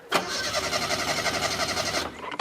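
An American-made car's engine cranking: a rapid, rhythmic starter churn that runs loud and steady for about two seconds, then cuts off abruptly, followed by a few faint clicks.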